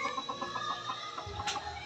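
A white chicken gives soft, quick clucks close by, a short murmuring series over faint background noise.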